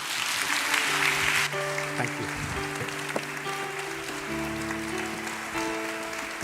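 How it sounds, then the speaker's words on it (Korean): Audience applause welcomes two speakers, a lecturer and his interpreter, at a church mission conference. A loud burst of clapping fills the first second and a half, then fades under sustained musical tones, and a voice speaks briefly. "두 분 나오실 때 큰 박수로 환영하겠습니다"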